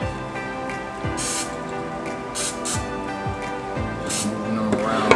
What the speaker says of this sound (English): take our olive oil spray